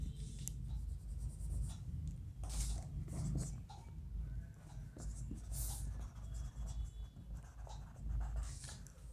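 Writing on a board during an RCC structure design lecture: scratchy marker or chalk strokes in irregular bursts, close and fairly quiet over a low room hum, with faint clicks between strokes.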